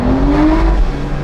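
An Aston Martin DBS 2+2 revs hard with its wheels spinning, a loud, steady engine roar with a rising tonal whine held close throughout.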